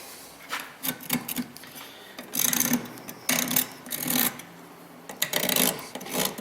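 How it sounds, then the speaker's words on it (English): Edge of a metal file scraping an EVAP fitting on a Kia Sedona, a series of short rasping strokes in bursts, close and fairly loud, with brief gaps between passes. "I'll use the edge of a file and just go through and kind of scrape that off"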